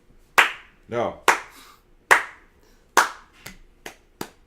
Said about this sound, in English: good slow clap